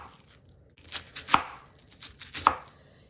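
A knife chops cabbage into thin strips on a cutting board, a handful of crisp close thuds in an uneven rhythm, two of them especially sharp, with no talking.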